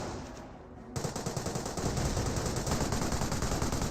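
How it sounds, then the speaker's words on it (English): A captured MG42 machine gun rattles in Company of Heroes, opening after a brief lull into sustained, rapid, evenly paced automatic fire over dense battlefield noise. "That must have been a captured MG42 from right here"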